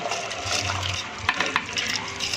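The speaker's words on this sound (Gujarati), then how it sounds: "હવે આમાં આપણે ભાત એડ કરી દઈશું।" Rice goes into boiling water in an open pot for soya vadi pulao, giving a brief rushing, bubbling water sound with a couple of soft splashes up close.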